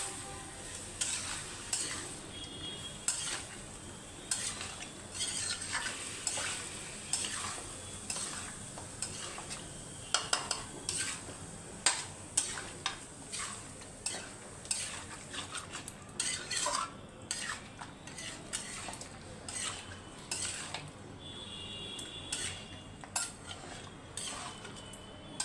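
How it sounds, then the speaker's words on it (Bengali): Chicken pieces with turmeric get stirred in a sizzling pan, a spoon scraping and clinking against the metal in busy irregular strokes over a constant low frying hiss, close up with no voices. "মিশিয়ে দিচ্ছি ভালোভাবে"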